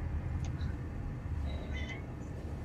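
A cat meows a few short times in Alien Isolation, the thin cries rising over a heavy low rumbling ambience.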